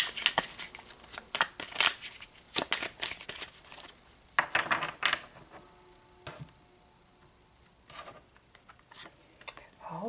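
Tarot cards are shuffled by hand in repeated quick bursts of crisp riffling and flicking, close and fairly loud, separated by short pauses.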